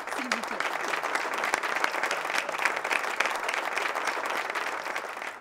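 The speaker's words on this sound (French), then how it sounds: "je vous demande de les applaudir" A crowd applauds steadily and continuously, dense clapping from many hands throughout, moderately loud.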